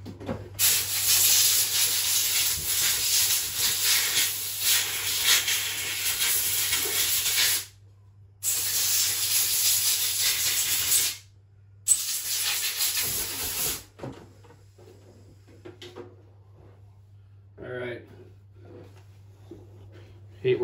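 Compressed air hisses loudly in long sustained bursts as dirt is blown off a Husqvarna chainsaw oiler, with two short pauses between blasts, then quieter handling noises and faint voice afterward.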